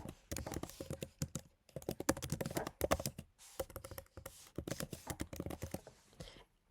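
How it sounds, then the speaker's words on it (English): A file name is typed on a computer keyboard in quick close bursts of key clicks, with short pauses between runs and no speech. "I'm just going to type in the same thing."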